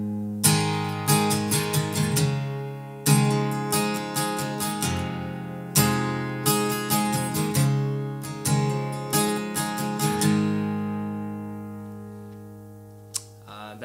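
Capoed acoustic guitar strums the verse chords of a song in clear repeated strokes with ringing sustain, playing alone without voices.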